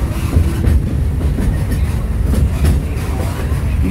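The Magic Kingdom railroad train running along its tracks, a loud close rumble with rhythmic clickety-clack of wheels over rail joints and occasional faint squeals, no voices.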